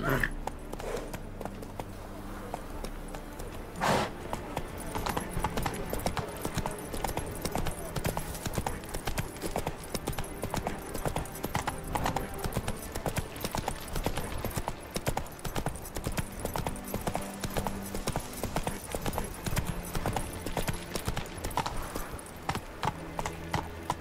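Roach, the horse in The Witcher 3, gallops with a steady, rapid clip-clop of hooves, close and continuous, over background music, with a brief voice near the start.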